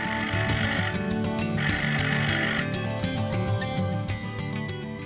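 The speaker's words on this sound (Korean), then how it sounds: "어느 날 뜻밖의 전화가 걸려옵니다" Telephone ringing for an incoming call, a steady repeated electronic ring in short bursts, moderately loud and continuing throughout with no talk.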